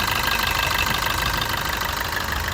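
A 2018 Maruti Brezza VDi diesel engine idles steadily up close, a continuous even rumble with a light rhythmic clatter and no voices.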